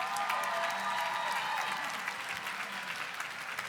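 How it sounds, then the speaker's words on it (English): Many hands clap steadily for journalism graduates at a commencement ceremony, a dense crowd applause holding level for a few seconds before easing slightly. "Let's give a round of applause for all of our specialized journalism graduates."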